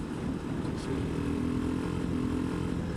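A KTM 390 Adventure single-cylinder motorcycle engine runs just over 4,000 RPM in fourth gear, a steady droning hum under wind rush while riding.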